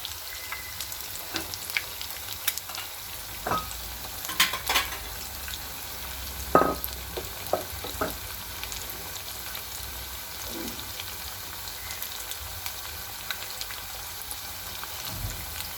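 Eggs frying in a pan for Chinese egg chilli give a steady soft sizzle with occasional scraping stirs and small clinks, close by and without talk.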